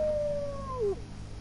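A dog in the Fallout 4 video game gives a single drawn-out whine that slides downward and breaks off, heard alone over a low game ambience.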